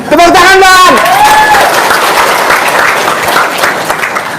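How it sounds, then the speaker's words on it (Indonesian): An audience at an Indonesian religious talk breaks into loud applause that follows a short burst of speech, a dense wash of clapping lasting a few seconds before it tapers. "Tepuk tangan Bang."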